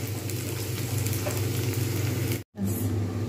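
Onions or chickpea-paneer pieces fry in hot oil in a home kitchen, giving a steady, close, dense sizzle that cuts out for a brief moment near the end and then resumes.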